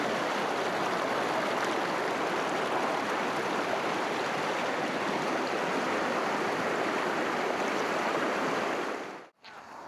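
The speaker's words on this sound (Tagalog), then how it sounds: "Sarap pakinggan ng agos oh." A flowing stream at a campsite in Albay rushes in a steady, dense wash of water noise close to the microphone, continuous throughout before cutting off abruptly near the end.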